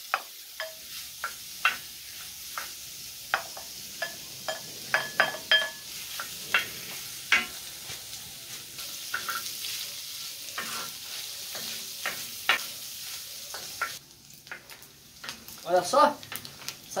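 Pork fat (toucinho) frying in a pan for paçoca de carne, with steady sizzling and many sharp pops and crackles throughout, close by, while a person talks over it.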